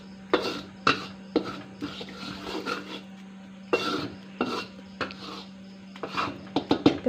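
Flour and turmeric leaves being dry-roasted in a pan, a steady low hum behind a series of sharp scraping clatters of a utensil against the pan at an irregular pace.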